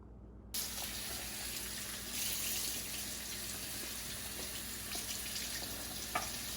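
A tap is turned on and water runs steadily into a sink as a cleaned fish is washed before steaming, a close, even hiss of running water with a few small knocks.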